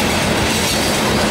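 Norfolk Southern freight train with a GP38-2 high-hood locomotive in tow passes close by, a loud, steady rumble of rolling railcars and wheels with no voices.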